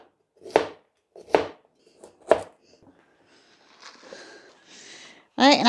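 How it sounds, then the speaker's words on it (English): A knife chops cauliflower into small pieces on a cutting board, with three loud, evenly spaced thuds, then softer scraping and rustling and a brief sharp sound at the end. No one speaks. "So again, just cut this into small pieces."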